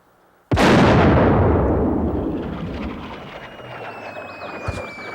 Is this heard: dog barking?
no